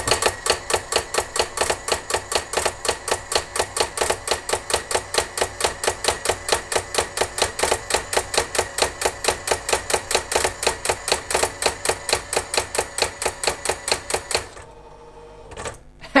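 A Brother AX-15 electronic typewriter prints a typed line with a fast, steady, loud run of mechanical strikes that goes on for about fourteen seconds, then stops, and a few faint carriage and motor noises follow.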